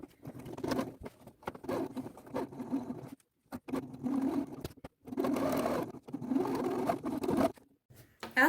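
A sewing machine stitches the crotch seam of a suit trouser in several short bursts of fast, rattling patter separated by brief pauses, close and moderately quiet.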